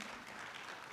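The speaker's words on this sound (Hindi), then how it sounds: "तो एक बार फिर से जोरदार तालियां सर के लिए।" Applause from an audience at a journalism talk event, a steady dense patter of clapping filling the short moment without pause, moderately distant and even in level.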